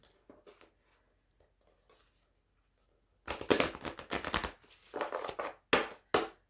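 A deck of design cards being shuffled by hand, with faint soft handling at first, then several bursts of loud, close riffling and crisp card flutter in quick succession.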